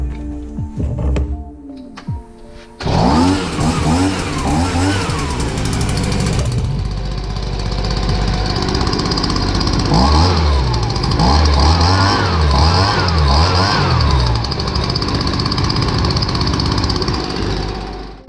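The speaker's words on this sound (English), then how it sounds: "Hey Cuzzy, I got your blower working." A Stihl BR55 leaf blower, just fitted with a repaired choke, starts up after a few rough pulls and settles into a loud, steady two-stroke drone that runs continuously close by.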